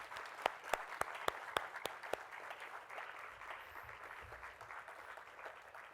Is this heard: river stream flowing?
no